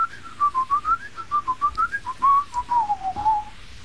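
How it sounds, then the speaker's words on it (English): Wavering melodic whistling at the start of the song Dance on My Own, a single pure tone gliding up and down in a steady tune for several seconds, clear and alone. "if you listen really closely at the beginning, you hear a wee bit of whistling"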